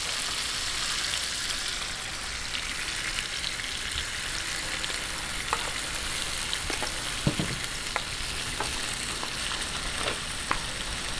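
Pata humba pork in its marinade bubbling and sizzling steadily in a pot, a dense continuous crackle with occasional light stirring taps, close and alone without speech.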